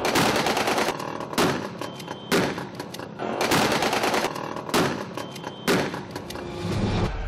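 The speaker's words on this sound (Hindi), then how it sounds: "दहशतगर्दों ने क्लैशनकोफो, हैंड ग्रेनेड्स और रॉकेट लॉन्चर से हमला कर दिया।" Kalashnikov gunfire from the attack on the Sri Lankan cricket team bus in the Liberty area crackles in loud, rapid bursts separated by brief lulls, with no speech over it.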